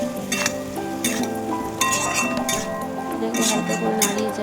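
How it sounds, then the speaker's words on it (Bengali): Spices, soybean chunks and potatoes being stirred in a pan, with steady scraping, light clinks of a utensil against metal and a soft sizzle, all under a continuous layer of other background sound. "এটাকে হালকা করে নাড়িয়ে চাড়িয়ে নেব যেন একদম গায়ের সাথে মিলে যায় মশলাগুলো"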